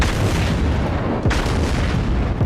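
Battleship guns fire in World of Warships, with heavy booms and a sharp blast near the middle over a constant loud rumble and no talking.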